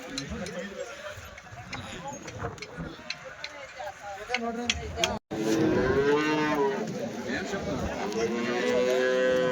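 Cows and calves moo at a Sunday cattle market in Chintamani, a long drawn-out low call rising clearly in the second half, amid people talking and a busy, noisy outdoor background.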